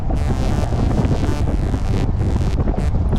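Loud, steady wind roars across the microphone while cycling in cold weather, a dense low buffeting rumble with brief breathy gusts and no voices.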